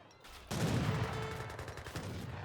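Organ guns fire in a strategy video game, a sudden loud burst of layered gunfire and booming blasts that keeps rumbling and crackling on without a break.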